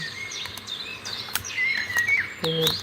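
Small birds, munias, chirping and tweeting in quick, high-pitched bursts, close by, with a faint insect-like hiss in the background.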